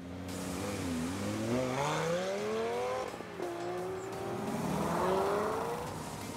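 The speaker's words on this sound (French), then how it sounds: "Le son de 25 véhicules ronronne dans nos tympans." A convoy of about 25 Mercedes, BMW and Porsche cars on a rally tour drives past, engines rising and falling in overlapping revs and gear changes, loud and continuous with faint tire noise.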